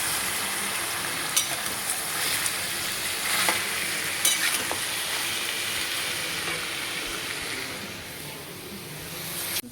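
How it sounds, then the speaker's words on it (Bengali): Curry being sautéed in a pan after a sprinkling of garam masala, a steady close sizzle and frying hiss with occasional scraping and stirring clicks from the spoon against the pan, no talking. "এবার একটু গরম মশলা ছড়িয়ে দিয়েছি, দিয়ে আবার একটুখানি ভালো করে কষে নিচ্ছি।"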